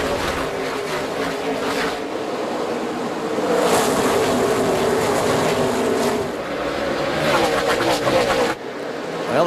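NASCAR Nationwide stock cars roar as they accelerate on a race restart at the Food City 250, a loud, sustained engine rumble that surges and fades as the pack passes, with broad crowd and track noise around it.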